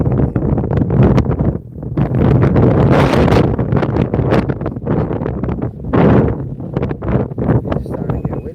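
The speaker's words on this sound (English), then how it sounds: "It's starting to get windy." Gusty wind buffeting a boat cruising through the Bronx near the Throgs Neck Bridge, loud irregular roaring bursts hitting the microphone, rising and falling in waves.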